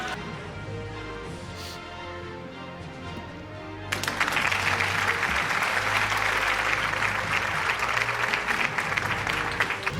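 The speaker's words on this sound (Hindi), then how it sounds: "आपकी तालियां थमनी नहीं चाहिए।" Dense, sustained applause breaks out from a large audience at an annual award show, rising suddenly and holding loud and steady for several seconds after a quieter stretch of background speech.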